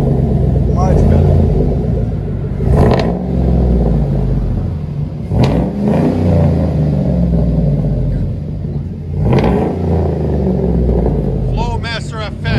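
A Chevy 6.0 liter V8 truck with a Flowmaster FX exhaust, heard from inside the cab, produces a loud, deep rumble with a few revving swells, while people talk over it.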